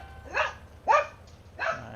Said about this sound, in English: My dog gets set off at the tiniest little sound.